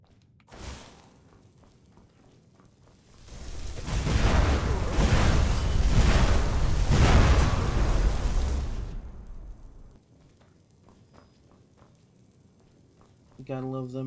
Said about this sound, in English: You gotta love them explosions.